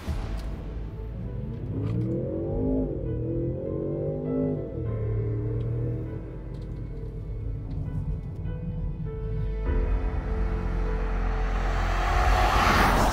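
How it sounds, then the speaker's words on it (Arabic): A 2023 Range Rover Sport V8 gets a light blip of the throttle, its engine note rising and falling smoothly in a steady, moderately loud rumble with no talking over it. "بما انه السياره معنا في 8 8 سلندر اعطيها دوسه على الخفيف يعني"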